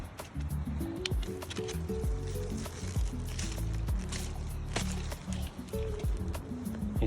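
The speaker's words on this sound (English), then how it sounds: "I'll dig the hole first, fill it up with some water" Water is poured from a hose or container into a freshly dug planting hole in garden soil, a continuous gurgling, splashing fill with shifting bubbly tones, close and steady throughout.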